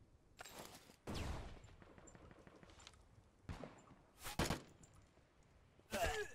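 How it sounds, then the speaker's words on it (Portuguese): Gunfire in the tactical first-person shooter Tip of the Spear: several loud broadband bursts of shots scattered through the span, some single cracks and short rapid volleys, over quieter background noise. "eu tô tomando tiro que eu não sei de onde vem"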